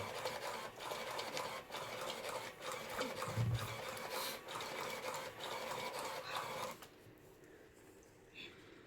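A card shuffling machine runs with a steady mechanical whirring and rubbing for several seconds, then cuts to quieter sounds. A voice talks faintly in the background.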